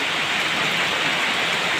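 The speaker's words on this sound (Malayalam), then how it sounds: "അപ്പോൾ ഈ മഴയത്ത് നമ്മൾ നടക്കാമെന്ന് വിചാരിച്ചാൽ നമ്മളെല്ലാവരും നനയും" Heavy rain pours down steadily on a home in Kerala, a dense even hiss that stays constant throughout with no voices.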